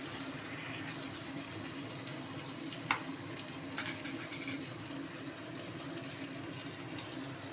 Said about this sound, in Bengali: টমেটোটা দিয়ে দিয়েছি, দিয়ে এবার ভেজে নিচ্ছি।